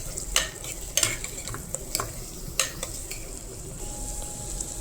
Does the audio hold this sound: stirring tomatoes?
yes